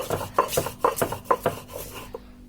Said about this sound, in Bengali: শুকনো মরিচটাকে ভালোভাবে ম্যাশ করে নেব।